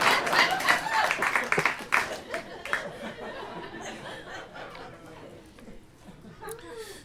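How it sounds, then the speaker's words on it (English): A comedy-show audience breaks into applause mixed with laughter and chatter, the clapping strongest at first and then tapering off into scattered laughs and voices. "Yay, let's applaud that."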